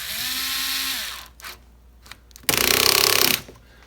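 A power tool driving fasteners on a Shindaiwa HT2510 hedge trimmer, with a steady whirring run, brief short bursts, and then a louder rattling burst of about a second.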